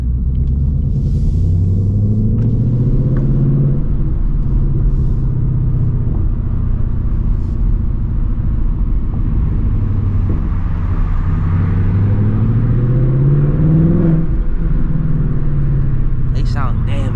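A 2024 Mustang GT with a 500 hp Gen 4 V8 rumbles and revs through hard pulls, deep engine tone rising and falling twice, loud and close for the whole stretch with no talk over it.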